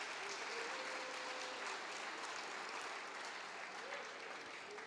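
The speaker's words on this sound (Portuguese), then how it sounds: "Pode aplaudir a Jesus." A church congregation applauds during a worship service with a steady, even wash of many hands clapping. It sounds faint and distant throughout, with no clear voices on top.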